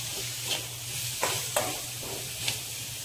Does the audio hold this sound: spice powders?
yes